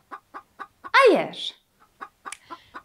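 A chicken clucks in short, evenly spaced pecks, then gives one loud drawn-out squawk and a few more clucks, close by, while a voice briefly speaks.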